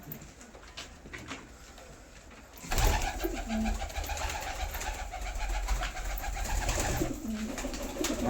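Pigeons offered for sale coo in low, rolling calls close by, several overlapping phrases over a busy background with rustling and movement.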